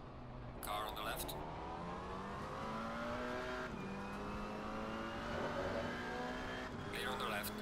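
Several race cars in a multi-class sim racing game at the Zolder circuit drone with steady engine tones that climb and shift, one passing mid-clip, while a spotter voice calls traffic over them.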